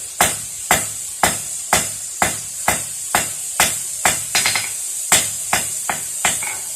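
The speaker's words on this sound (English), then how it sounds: "Go ahead and forge a very thin, not a sharp, but a very narrow taper." A blacksmith's hammer strikes hot steel, drawing a narrow taper for a meat skewer: sharp, ringing blows land in a steady rhythm about twice a second, each with a short decay, close and loud with no talking.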